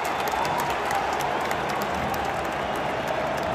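Rival football supporters roaring in the stadium during a Fluminense versus Boca Juniors Libertadores final, a dense, continuous wall of crowd noise at steady loudness with no voices standing out.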